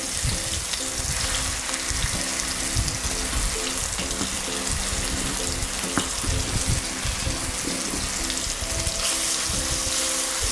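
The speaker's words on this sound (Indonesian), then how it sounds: "Nah, sekarang kita tumis bumbunya." Ground spice paste sautés in hot cooking oil for a long-bean and shrimp vegetable dish, a dense continuous sizzle and crackle throughout, close and steady with no pauses.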